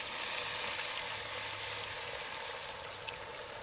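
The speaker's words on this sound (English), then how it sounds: "I'm going to add some water." Water pouring into a pot of browned Jamaican jerk oxtail over coals, a steady rushing hiss and splash lasting a few seconds, fairly close and alone.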